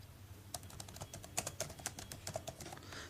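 Rapid keystrokes on a computer keyboard while JavaScript code is typed, a steady run of close, crisp clicks and taps with no talking.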